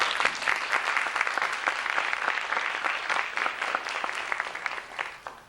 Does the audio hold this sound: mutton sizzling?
no